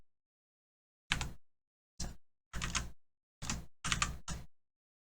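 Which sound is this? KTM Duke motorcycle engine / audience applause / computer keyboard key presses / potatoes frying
computer keyboard key presses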